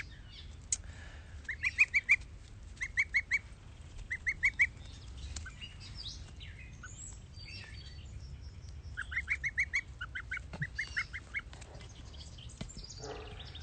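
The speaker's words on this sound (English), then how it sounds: "we're just gonna live stream baby geese" Baby geese peep softly in repeated short bursts of high chirps, scattered clusters rising and falling over a quiet low background hum, fairly faint and with no talking.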